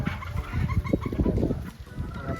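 Gamefowl chickens of white kelso, gray, machine kelso and sweater lines on a farm in Lipa, Batangas, clucking and honking in a dense, overlapping flock chorus, with a steady high insect-like whine above.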